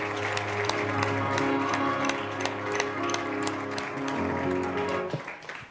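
An elementary school concert audience claps for the fifth graders, a dense, steady round of applause with scattered sharp individual claps lasting about five seconds before fading at the end, over a low sustained tonal hum.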